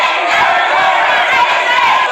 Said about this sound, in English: Shame on you, NYU, was the frequent chant as McInneis made his way through the crowd